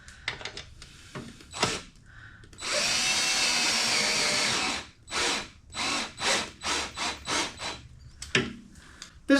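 A power drill drives screws to compress a set of DIY-kit battery cells: one long steady whir followed by a run of short, rhythmic bursts and a few clicks, close by with no talking.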